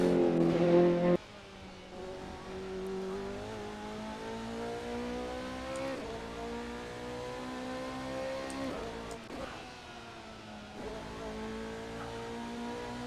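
A race car engine in the Assetto Corsa driving sim drones steadily, its pitch climbing and dropping through gear changes, with a few short breaks, audible as a continuous moderate engine tone.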